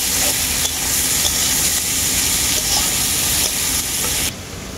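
Chopped vegetables and cabbage fry together in a pan for egg chow mein, giving a loud, steady, close sizzle that drops off abruptly near the end.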